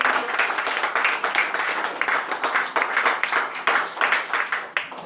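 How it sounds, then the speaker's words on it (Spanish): A church congregation clapping loudly and rhythmically together, a dense run of steady claps filling the room, with a few voices faintly underneath. "Damos fuertes palmas al Señor Jesús."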